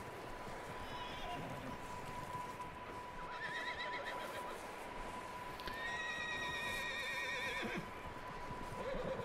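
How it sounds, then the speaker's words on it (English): Wild horses in Red Dead Redemption 2 neigh and whinny repeatedly at moderate distance, several rising calls over a bed of hoof clip-clop and ambient game sound, with a steady tone running underneath. "Some wild horses up there."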